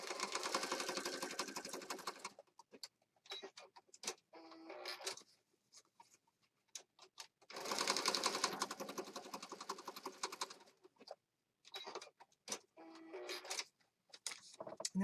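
Sewing machine stitching fabric scraps onto a junk journal embellishment, running in several close bursts of steady rapid whirring separated by brief pauses, with no talk.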